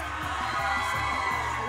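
A studio audience at a Spanish-language TV dating show shouts and cheers in a dense, continuous roar with rhythmic pulses, loud and close throughout.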